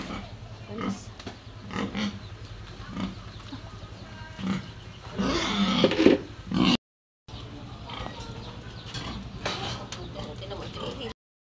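A pig grunts and snorts in rough bursts in a farm pen, close by, with a louder flurry midway and low background hum throughout.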